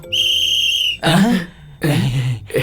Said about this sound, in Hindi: सीटी बज गई पर वो क्यों नहीं आई?